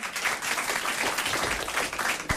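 Applause from a studio audience on a French comedy radio show, a steady wash of many hands clapping that continues evenly throughout at moderate level.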